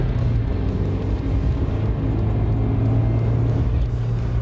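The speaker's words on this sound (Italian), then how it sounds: "Senti come detona?" Mazda MX-5 Miata engine pulling under load on hill roads, with knocking detonation, a loud, steady, close droning rumble that runs unbroken throughout.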